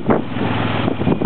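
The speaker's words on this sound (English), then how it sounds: "as you can see, it's very windy. It's like crazy windy." Strong desert wind buffets the microphone in a steady, rumbling roar with gusty swells, loud and constant throughout.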